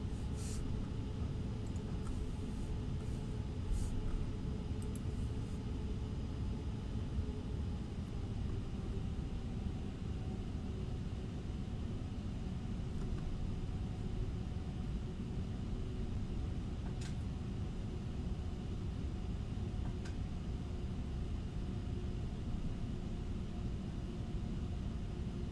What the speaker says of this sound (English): we're just going to taxi over to the other side here